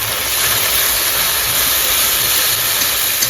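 Ginger-garlic paste hits onions already fried red in a hot pan, giving a loud, steady hiss that runs unbroken throughout with no talking.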